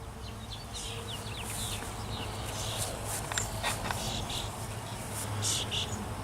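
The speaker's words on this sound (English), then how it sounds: "Bunch of bees clinging there." Honeybees hum steadily around an open backyard hive during an inspection, a dense continuous buzz close by with a few louder passes and faint rustling beneath.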